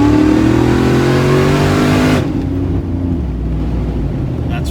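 Hard revving of a Hellcat-engined custom build on coilover shocks, a loud close rising engine roar that drops abruptly midway to a lower rumble.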